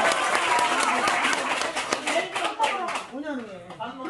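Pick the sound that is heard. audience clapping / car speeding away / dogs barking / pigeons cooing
audience clapping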